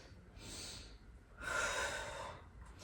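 A sharp inhale during a HIIT booty and core workout: two airy breaths, a short one and then a longer, stronger pull of air, close and moderately loud with no talking.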